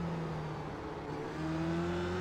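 A Formula race car engine runs flat out at Magny-Cours in a racing video game, a steady close drone whose pitch climbs gradually as it accelerates, with no talking over it.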